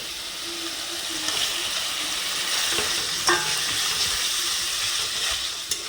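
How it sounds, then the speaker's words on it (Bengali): Eggs and potatoes stirred into a curry gravy with oil risen to the surface, sizzling steadily and close by with a broad frying hiss and a few sharp clatters of the spoon, no voices. "গ্রেভিতে তেল ছেড়ে দিয়েছে, তো এবার মা ডিম আলুটা দিয়ে দেবে"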